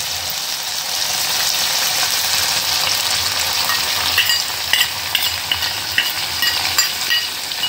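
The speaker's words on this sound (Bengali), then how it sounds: "অ্যাড করার পর এটাকে আবার একটু ভালো করে ভাজতে রেখে দেব" A spice mix is fried into a tomato and ginger paste that has already released its oil. It makes a loud, constant close sizzle, with scraping stirs and small pops in the later seconds and no voices.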